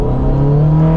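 Lotus Esprit S4S with an aftermarket exhaust droning steadily while driving, a continuous low engine note held at constant loudness for about a second with no talk.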